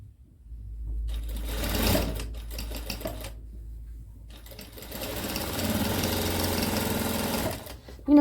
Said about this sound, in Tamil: இப்போ பாருங்கள், நேராக ஒரு தையல் 2 துணியும் ஒன்றா சேர்த்து வச்சுட்டு ஒரு தையல் தைக்க போகிறேன்.